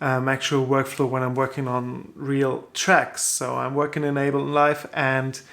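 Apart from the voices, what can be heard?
None of the usual background noises is heard.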